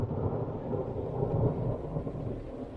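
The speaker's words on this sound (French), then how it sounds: "il y a le tonnerre, les éclairs" Thunder in a storm over a vegetable garden, a low, steady rumble rolling on for about three seconds, fairly faint and distant with no talk.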